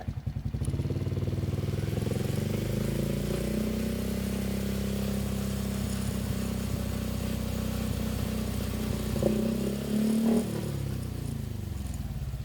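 A Suzuki Raider J Fi 115 motorcycle fitted with big tires runs late at night with a steady low engine drone held through the whole stretch, given only a couple of gentle throttle blips near the end rather than hard revving.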